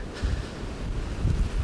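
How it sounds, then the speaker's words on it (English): Cold, gusty wind blowing outdoors beside a parked car, heard as a low rumbling buffet against the microphone that swells in bursts, with no voices. "Windy."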